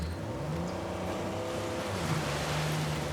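A car engine drones steadily in Uncharted 4, a continuous, even motor hum with a faint rising tone partway through, alone and at moderate volume.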